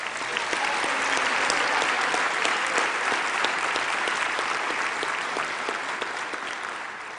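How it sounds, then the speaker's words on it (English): Steady, even applause from an audience at a university autumn graduation ceremony for Faculty of Education graduates, continuous dense clapping held at a moderate level throughout. "I think you deserve a round of applause"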